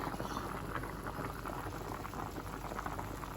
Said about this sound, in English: Okay, so now we're really boiling.